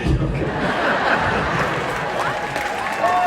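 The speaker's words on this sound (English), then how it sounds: "No, don't cheer for that." A live concert audience cheers and applauds at a Christian music show, a dense wash of clapping and crowd noise with scattered laughter running steadily throughout.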